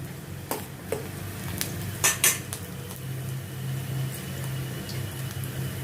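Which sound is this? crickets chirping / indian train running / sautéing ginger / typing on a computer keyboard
sautéing ginger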